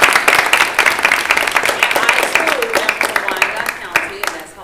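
An audience claps and applauds steadily throughout, a dense patter of many hands that slowly fades, with a voice speaking briefly over it.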